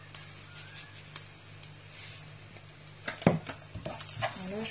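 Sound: stirring spiced rice mixture in a pan

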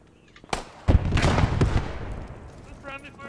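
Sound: gunfire in video game Post Scriptum, friendly fire

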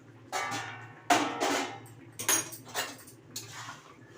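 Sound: pot lid opened to check vegetables

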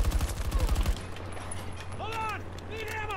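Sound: gunfire from enemies in video game Battlefield 2042

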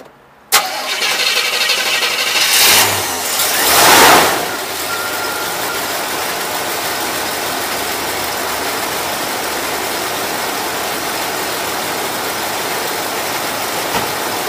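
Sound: Volvo C30 car engine starting and running

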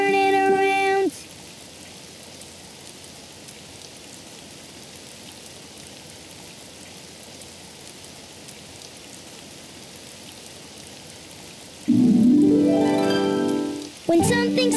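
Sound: rain

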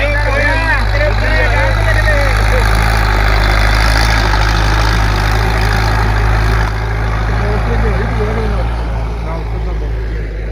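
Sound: Kartar 5936 tractor engine running

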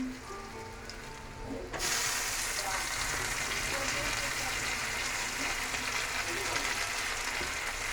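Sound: chopped tomatoes frying in pan with rice

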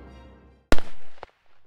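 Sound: gunshot sound effect

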